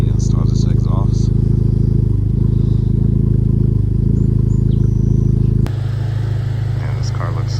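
Honda Civic Type R FL5 fitted with an AWE track exhaust, running with a steady loud low exhaust drone close by, cutting to a quieter, different tone near the end, with someone talking over it.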